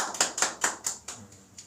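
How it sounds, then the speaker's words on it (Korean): A church congregation claps at a Christmas service, giving a short burst of distinct, rhythmic hand claps at about five per second that thin out and fade within two seconds. "하나님께 영광의 박수 올리겠습니다."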